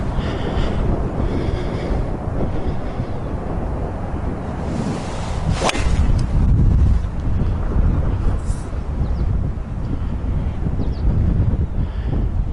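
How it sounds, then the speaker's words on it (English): Gusty wind buffets the microphone on a cold golf course, a steady roaring rumble with one sharp knock partway through and no talk. "Wind's blowing."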